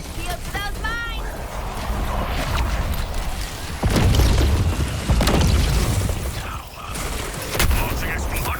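Artillery barrage with heavy booms, rumbling blasts and clattering mechanical noise in Suicide Squad: Kill the Justice League, loud and dense throughout, with voices talking over the battle.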